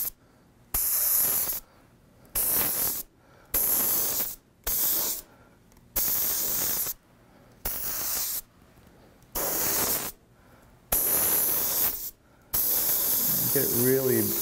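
An airbrush sprays candy paint into corners in a series of sharp hissing bursts, about nine separate blasts of varying length with brief silent gaps between them, close and loud.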